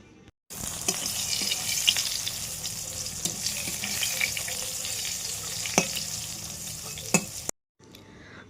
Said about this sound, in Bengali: আগেই পটল ভেজে নিলাম,